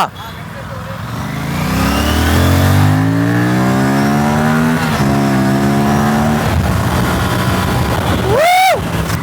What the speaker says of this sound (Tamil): ஓப்பன் பண்ணும்போது பார்த்தீங்கன்னா எக்ஸாஸ்ட் சவுண்ட் மேசிவாக வந்துச்சு